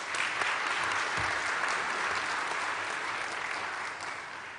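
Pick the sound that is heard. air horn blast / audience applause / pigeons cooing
audience applause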